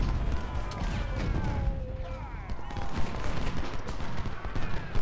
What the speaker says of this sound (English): we are getting pretty heavily hit by artillery